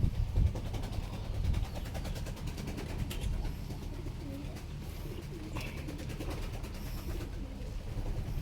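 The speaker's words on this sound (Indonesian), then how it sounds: "Merpati baru banyak, kayaknya ada merpati ngikut lagi tuh." Pigeons coo repeatedly nearby against a steady background hum, with a few scattered clicks and faint rustling.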